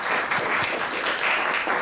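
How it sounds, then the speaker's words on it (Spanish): An auditorium audience at an academic conference session on human mobility claps together in thanks, a continuous dense wash of many hands at steady volume with no voices over it. "aquí el auditorio está aplaudiendo en agradecimiento a todos los conocimientos que nos estás pues exponiendo esta mañana"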